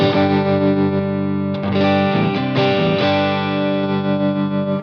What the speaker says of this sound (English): Really nice basic tremolo sound.